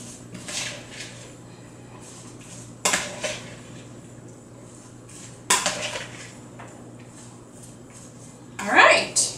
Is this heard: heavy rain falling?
no